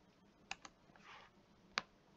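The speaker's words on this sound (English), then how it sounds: "So I will type in Southwest Minnesota State," A computer keyboard typed on quietly, with a few sharp separate key clicks and a soft burst of quicker tapping between them.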